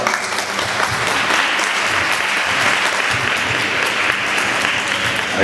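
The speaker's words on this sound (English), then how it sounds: "Round of applause for Don Ryan" Steady, dense applause from an audience at a nonviolence event in Hempstead, New York, as a village trustee is welcomed to the podium, loud and sustained throughout with no talk.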